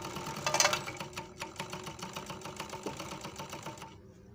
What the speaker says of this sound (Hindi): फिर सिलाई मार के देखेंगे।